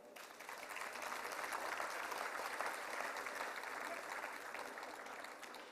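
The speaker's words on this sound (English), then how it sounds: "I think they deserve a round of applause" An audience applauds at an investment festival, a sustained wash of clapping from a crowd that holds steady for several seconds, moderately distant and without talk.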